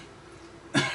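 A single sharp cough bursts out near the end, close and loud, after a stretch of quiet room tone, from a man who has been coughing repeatedly while still unwell.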